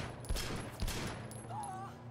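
Gunfire rings out in the open-world action game Sleeping Dogs: two sharp shots a half-second apart, followed by a faint whistling tone, all fairly quiet against a steady game-sound bed.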